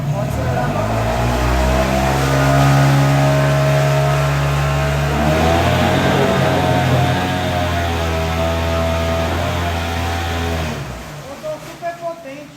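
A 5 HP outboard boat motor held at full throttle while in gear, a loud, steady, continuous engine drone that holds for about eleven seconds before cutting back to a few sputtering bursts.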